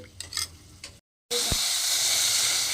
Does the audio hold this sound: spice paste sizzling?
yes